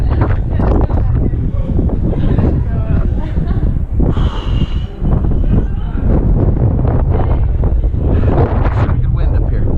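Strong wind roars and buffets the microphone at the top of the Duomo bell tower, loud and continuous for the whole stretch, with people talking briefly underneath.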